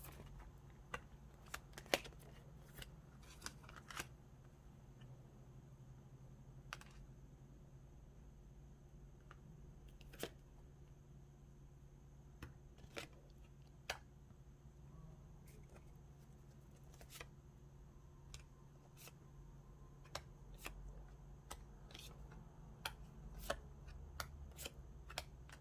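Tarot cards being handled and laid out on a table give soft, sparse flicks and light taps spread unevenly over a low steady room hum, close but faint.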